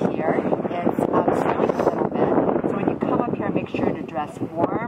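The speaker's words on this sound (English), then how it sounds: "Super cold and windy here." Cold, gusty wind with light snow buffets the microphone at the top of the Banff Gondola in a steady roar while a person talks throughout, the wind noise rising and falling beneath the voice.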